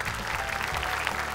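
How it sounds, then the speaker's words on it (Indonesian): A studio audience at a televised Quran recitation competition applauds in a brief burst of clapping, with musical tones sounding underneath. "Boleh tepuk tangannya meriah."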